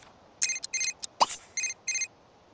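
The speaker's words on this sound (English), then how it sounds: "Answer the phone, boy." A phone rings in The Sims 3, bursts of bright electronic trills in a rhythmic pattern, with a brief plop-like sound in the middle, clear and close over a quiet background.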